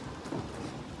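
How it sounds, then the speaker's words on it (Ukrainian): Dense, heavy rain hisses steadily with a broad wash of noise and low rumble throughout. "Конкретно почав насипати дощ."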